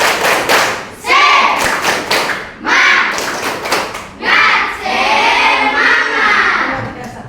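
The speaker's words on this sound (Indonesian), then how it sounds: "mari kita sama-sama tepuk semangat" A classroom of students performs a rhythmic spirit clap in unison, loud bursts of clapping and thumping in repeated patterns, broken by brief pauses, with children's voices chanting along.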